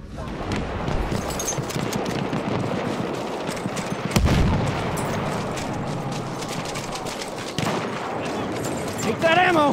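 Light machine gun fire in Battlefield 1 in a wooded map, with dense rapid bursts of automatic shots and booming impacts, heavy and continuous, plus shouting voices in the background mix.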